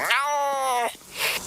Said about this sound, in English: That's not my cat.